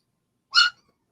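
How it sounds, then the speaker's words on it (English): A dog gives a single short, sharp bark indoors, close by, with silence on either side. "And you hear her barking."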